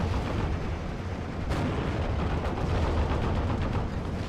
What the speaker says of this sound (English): I'm just going to keep mortar spamming him